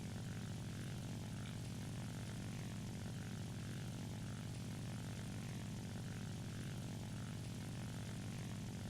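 La-5FN fighter engine in War Thunder air realistic battles: a steady, loud propeller-engine drone with a deep low rumble and a higher rasping layer, holding constant throughout with no talk.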